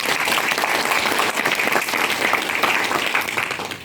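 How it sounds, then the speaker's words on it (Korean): Dense, steady audience clapping fills a conference hall at a Korean Wolfram Language conference as a speaker is welcomed, sustained and fairly close for a few seconds without talk. "박수 부탁드리겠습니다."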